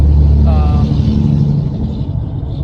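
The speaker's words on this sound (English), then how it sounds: "that's a loud truck" Loud, rumbling road vehicle noise, like a heavy truck passing close by, fading gradually as it moves away, with brief talk near the start.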